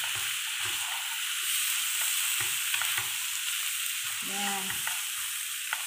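Chicken curry made with instant coconut milk powder is stirred in a pan over a constant sizzle, with rhythmic spatula scrapes at close range and one brief spoken word.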